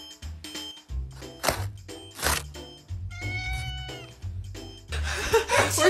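A cat being bathed lets out a series of loud, drawn-out meows and yowls. The cries are spaced a second or so apart, with water and handling noises between them and a louder splashy burst at the end.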